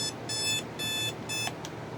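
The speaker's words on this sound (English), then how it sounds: "We'll turn alarm off." A basic Westclox alarm clock beeps in quick pulsed bursts, three clear electronic bleeps repeating at an even rhythm, close and loud with no talk.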